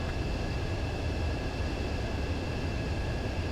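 Steady, loud jet engine roar from a fighter jet on landing approach to a runway in Ace Combat 7, continuous and unbroken with a sustained whine over a broad rushing rumble.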